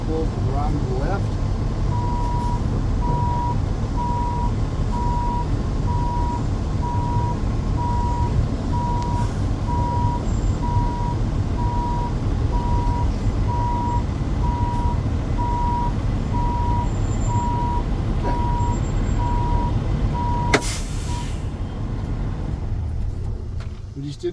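Truck rolling at about five miles an hour during a CDL Class A service brake test, with a steady engine and road rumble throughout and a repeating reversing-style beep pulsing along, plus a brief sharp hiss near the end.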